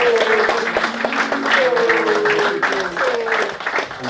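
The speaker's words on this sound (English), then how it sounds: "So, round of applause for 2." Audience at a football club presentation night in a hall, clapping in warm continuous applause, with a voice speaking over it throughout.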